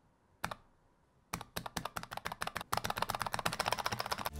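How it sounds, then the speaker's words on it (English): Clicky buttons on a Palette Gear editing controller are pressed over and over. One click comes first, then a pause, then a run of crisp taps that speeds into rapid, close, loud clicking. "when you press them, they have a rather nostalgic and satisfying click to them"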